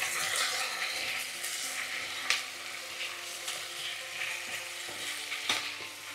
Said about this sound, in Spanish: las zanahorias y la cebolla y dejamos que rehogue un poco. Movemos un poquito.